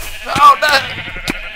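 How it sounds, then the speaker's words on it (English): Sheep bleat in Minecraft on the Mineplex server, two or three short game bleats mixed with players talking over them. "someone's nicked all of our sheep"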